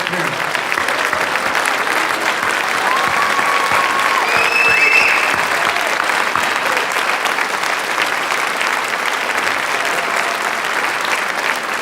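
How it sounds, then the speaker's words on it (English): Steady, sustained applause from an audience at a school honors night, clapping for parents who stand up, dense and even throughout with faint crowd murmur underneath. "we can give you a round of applause and congratulate you"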